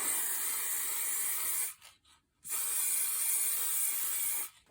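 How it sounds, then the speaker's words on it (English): An aerosol can of matte varnish sprays over artwork in two long, loud, close hissing bursts, separated by a brief pause with faint rattling. "I want to protect the top, and I want to do that with a matte varnish"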